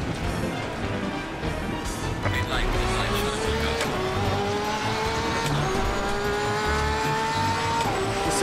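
A race car engine whines in Assetto Corsa Competizione, its pitch climbing and stepping through gear shifts with tire noise underneath, while a player talks over it.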